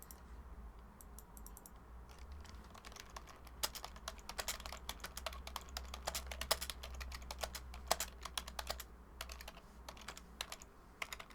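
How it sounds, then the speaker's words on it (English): A loud, clacky computer keyboard is typed on close up in rapid, irregular bursts of sharp keystrokes that run throughout, with no speech. "Sorry if my keyboard sounds like a machine gun."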